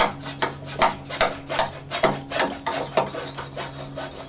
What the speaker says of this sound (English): All you got to do is cut the hose, and I find a hacksaw works best.